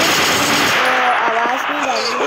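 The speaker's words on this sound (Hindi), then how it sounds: "चलो मैं गन से उड़ाता हूँ दोस्तों" Rapid gunfire from a gun in a video game, a loud continuous burst of shots with game effects layered over it, filling the whole stretch.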